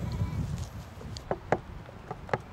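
Sheep running around outdoors on a very windy day give several short bleats and calls at a middle distance, heard over steady wind rumble.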